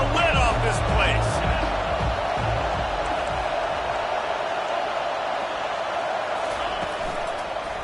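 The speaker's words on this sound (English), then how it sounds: "3rd down, and this crowd is tearing the lid off this place." College football stadium crowd roaring on a third down, a loud dense sustained roar filling the whole stretch, easing slightly toward the end.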